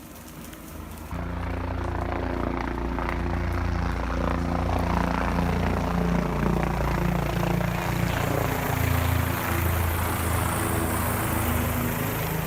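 A helicopter hovers overhead spraying water to keep wooden boardwalks wet during a prescribed burn at a Gulf State Park, its rotor and engine drone loud, steady and close throughout after a quieter opening second.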